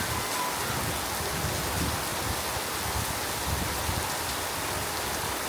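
Steady early-morning monsoon rain in rural Bangladesh, falling over a yard built on a filled-in pond, makes a dense, even hiss that continues without pause and with no voices.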